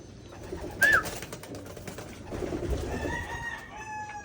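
Pigeons call during recall training outdoors, with a short bright whistle-like note early on and scattered bird sounds, including a rooster-like crow, over a low background rumble.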